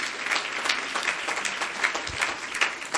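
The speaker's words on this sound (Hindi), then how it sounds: "ये ताली हो ऐसे प्यारे बच्चों के लिए" Congregation at a church sermon claps for children, a lively, close crowd applause with rhythmic pulses of individual hand claps swelling and easing across the moment.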